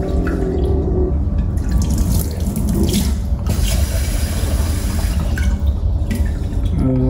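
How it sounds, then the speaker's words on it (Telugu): Rice being washed under a running kitchen tap, a continuous splash of water with dripping and sloshing as the grains are rinsed in a pot, close and alone without voices. "ఒక 4 సార్లు కడిగేసేసి రైస్ కడిగేద్దామని చెప్తాం"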